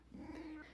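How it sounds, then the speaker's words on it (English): A house cat meows close by, one drawn-out, slightly growly vocal call under a second long, faint against a quiet indoor room. "Sorry if you hear a cat meowing."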